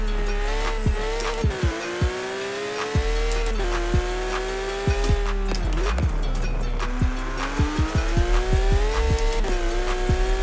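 A Porsche 911 GT3 RS in Forza Horizon 4 revs hard through repeated gear shifts, its engine note climbing and dropping again and again with sharp shift breaks, loud and close, heading into snow, with no voices.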